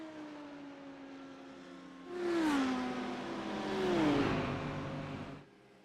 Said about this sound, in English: there's just an echo of various GT3 cars in the background